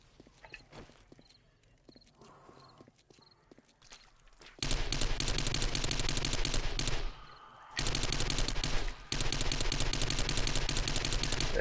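Rapid SMG gunfire in the video game 7 Days to Die, loud sustained automatic bursts that break off briefly and resume, after a quieter stretch of faint clicks and movement.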